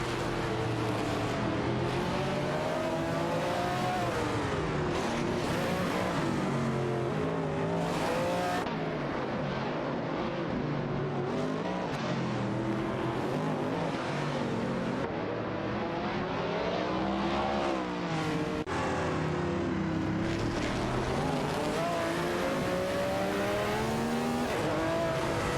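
Race car engines in a racing game, including a March 77 Chevrolet and a Ferrari 712, a loud unbroken roar of revving and shifting engines with occasional tire squeal, no voices.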